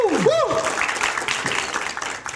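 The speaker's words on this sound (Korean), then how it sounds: "이분들께 여러분 대박 나시라고 감사의 박수 한번." A studio audience at a Korean talk show claps in thanks for sponsors, a dense burst of applause under a sliding tone, with voices layered through it.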